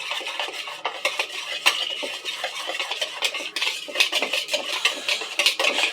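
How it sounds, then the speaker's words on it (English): Seasoned chicken, sausage and potatoes being stirred and tossed in a dish, with steady scraping and clinking of a utensil against the pan in a busy, continuous rhythm, close and fairly loud, with no talking. "Go ahead and mix this up."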